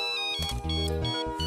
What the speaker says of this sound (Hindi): अब्दुल भाई का फोन है, लगता है शायद पहुंच गए